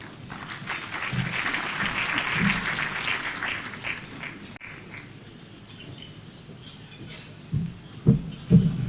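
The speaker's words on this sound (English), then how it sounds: "A round of applause again to Honorable Mugatana." An audience at the National Prayer Breakfast gives a round of applause for Senator Mugatana of Tana River, a broad wave of clapping that fades after a few seconds, followed by quieter room sounds and a few sharp knocks.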